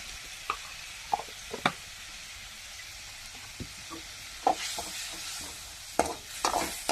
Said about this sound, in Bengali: মশলা কষাই মশলা কষাইতেছে বলে